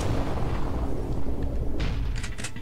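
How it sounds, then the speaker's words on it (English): Explosions in the video game Machine Hunt rumble as a deep, continuous booming roar, loud and close, with a few sharper bursts near the end and no talk. "And there you get to see awesome explosions."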